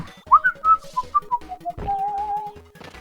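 A person whistles a wandering, melodic tune close to the microphone, with short rising and falling notes ending in a long held tone, while faint game music plays underneath.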